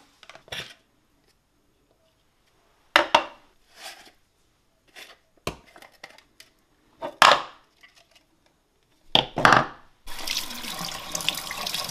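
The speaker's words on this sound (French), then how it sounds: "un peu d'eau chaude et ça se nettoie vraiment très facilement" Hot tap water pours into a fruit ice cream maker at the end, a steady splashing rush after several brief knocks and clatters of the parts being handled.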